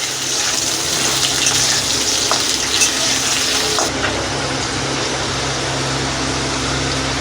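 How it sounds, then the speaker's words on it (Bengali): Potatoes frying in hot oil, browning while cooking a ridged gourd curry with lentil dumplings. A loud, steady sizzle with a broad hiss runs unbroken throughout, close up and with no talking. "আলুগুলো আমি লাল লাল করে একটু ভেজে নেব।"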